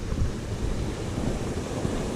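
Water of Panther Creek rushes steadily at a trail crossing, a dense, broad wash of flowing noise that stays close and loud, with no voices.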